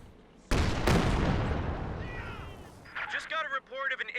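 Pershing tank gun firing in Company of Heroes 2: two sharp, loud booming cannon shots in quick succession, each with a long rumbling decay, followed by someone talking.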